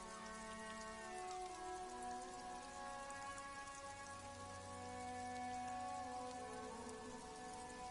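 Rain pours over a grim port city in a detective role-playing game, a steady wash of drops on surfaces beneath low sustained musical tones and drones, continuous and even throughout with no voices.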